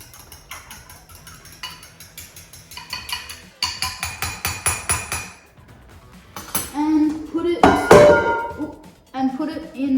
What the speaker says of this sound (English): Good, give that a whisk.